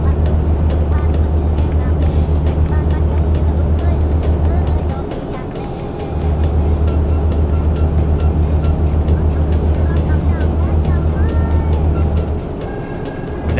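Truck engine droning in the video game Euro Truck Simulator, a loud steady low hum that dips briefly as the throttle eases, then resumes at a constant pitch while someone talks over it.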